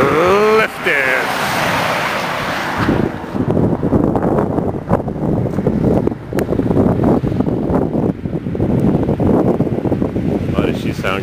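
A Ford flathead engine in a hot rod idles and runs loud and steady close by, with wind buffeting the microphone and people talking over it.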